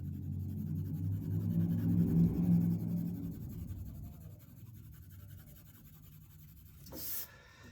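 Graphite pencil shading across paper, soft continuous scratchy strokes that go back and forth, louder at first and then fading to a lighter whisper, with a brief sharper scrape near the end.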